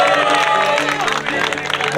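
Round of applause from an audience at a corporate conference team-scoring segment, dense and fairly loud crowd clapping with some cheering and talk mixed in, tapering slightly toward the end.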